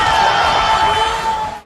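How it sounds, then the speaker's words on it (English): A Japanese game show studio audience erupts in a loud, brief burst of cheering and whooping, a dense crowd roar that swells and then cuts off after under two seconds. "The crowd is loving it."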